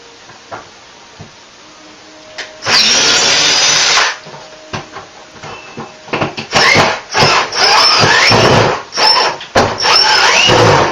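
A power tool drives out screws while a bathroom cabinet is removed during a remodel: sharp, loud whirring bursts of varying length with squeals, separated by quieter gaps and small knocks.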